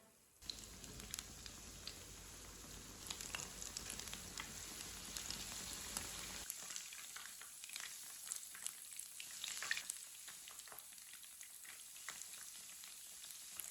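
Sandwich pieces dipped in a prepared paste fry gently in oil over low heat, giving a steady soft sizzle with scattered crackles; a low rumble drops away midway, leaving the quieter frying alone.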